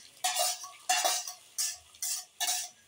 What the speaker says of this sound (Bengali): এখন ভালো করে নেড়ে দেবো